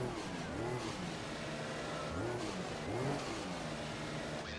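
Racing car engine from the F1 2015 video game during a Canadian Grand Prix race, a steady mid-pitched drone with rising and falling revs as the car slows to a stop, continuous and fairly loud throughout.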